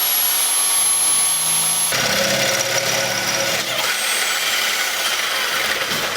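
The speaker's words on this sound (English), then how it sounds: "Drilling the holes to mount the D-bushes." A power drill bores holes through the chassis of a VW Type 2 Bay Window van to mount anti-roll bar D-bushes. It makes a loud, steady, whirring grind that shifts pitch partway through and runs without a break.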